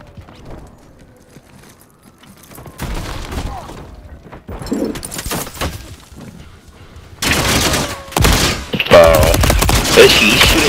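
Gunfire in the Call of Duty Modern Warfare III beta, with scattered shots building into loud sustained bursts and rattling automatic fire that dominates the second half.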